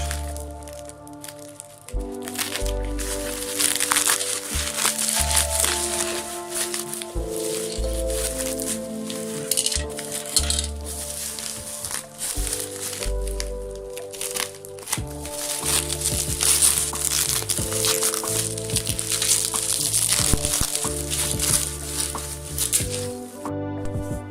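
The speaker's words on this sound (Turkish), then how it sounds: "Kutuya konmasına rağmen pat pat poşete sarılmış." Bubble wrap packaging crinkles and rustles loudly as it is handled and pulled open, with scattered crackles and crunches throughout.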